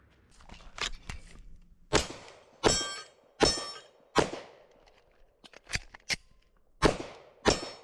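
Taurus G3 pistol shots at an outdoor range: a few sharp reports, a pause with the clatter of a magazine change, then more quick shots, loud and close.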